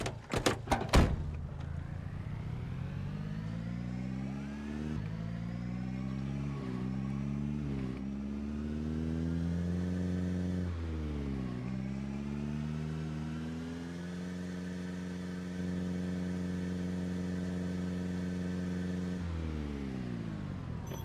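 Car engine in the zombie survival game Project Zomboid, a steady mid-pitched motor hum that rises and dips through revs and gear changes, with a door-like thump at the start, running continuously and fairly loud with no talk.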